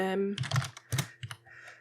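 Keys on a computer keyboard click in a quick, uneven burst of taps, close and fairly loud, with a voice talking at the start.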